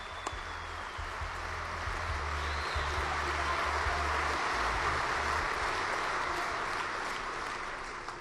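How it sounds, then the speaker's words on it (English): Steady, dense applause from a large convention audience greeting a U.S. senator at an NRA event, sustained and even in level throughout. "How about a big hand for him?"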